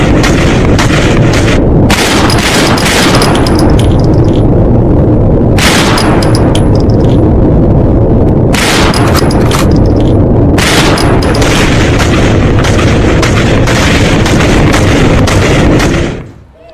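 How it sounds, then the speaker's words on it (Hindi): Loud, sustained bursts of gunfire in the street echo continuously with heavy booming and crackling, the noise dense and overwhelming throughout before cutting off at the end. "ये बीच सड़क गोलियां चला रहे हैं"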